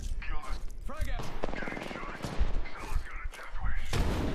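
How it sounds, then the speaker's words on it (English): Gunfire and grenade blasts in a futuristic first-person shooter match, with dense, continuous rattling shots and booming impacts throughout while a player talks over the action. "I finished one with a grenade"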